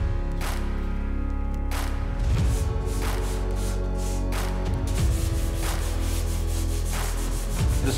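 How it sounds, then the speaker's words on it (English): Dried drywall tape lightly sanded by hand with 120-grit sandpaper during a bathroom tub remodel, a steady close scratchy rubbing in repeated strokes with no talk. "The next step is gonna be to lightly sand it. I'm using 120."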